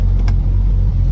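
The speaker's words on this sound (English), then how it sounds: "Bursts into life whether it's hot or cold," An MG Midget 1500 engine runs with a steady, loud low rumble throughout, with a couple of brief higher clicks near the start and no voices.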